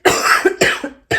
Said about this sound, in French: Première phrase que je dis, je tousse